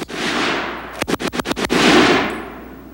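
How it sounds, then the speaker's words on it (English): A BAR .30-06 rifle fires one short automatic burst of about seven rapid, sharp cracks, loud and close, set against outdoor background rush and alone without talk. "Here's a burst from a BAR 30-06."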